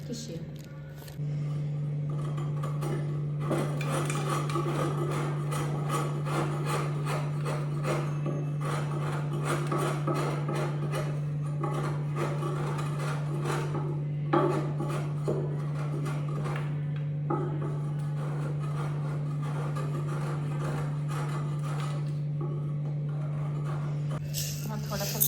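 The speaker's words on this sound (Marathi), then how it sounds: "गुळ किसून घेऊया" Jaggery grated by hand in a village kitchen in the Konkan, a steady run of rasping scrapes over a constant low hum lasting the whole stretch, fairly close.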